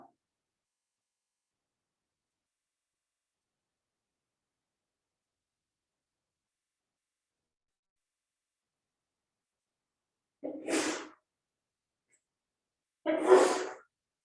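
Long silence, then two short, sharp sneezes a few seconds apart, close and fairly quiet.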